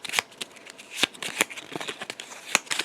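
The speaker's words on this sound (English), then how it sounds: "we're going to shuffle up his deck and draw some cards" A deck of cards is shuffled during a Lord of the Rings Journeys card game, giving several quick riffling bursts with sharp papery flutters and taps, close and fairly quiet, with no talking.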